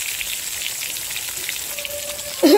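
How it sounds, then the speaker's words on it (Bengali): Eggplant slices frying in hot oil, a steady close sizzle and crackle throughout, with a brief louder clatter near the end. "এই যে বেগুন ভাজা বসিয়ে দিলাম"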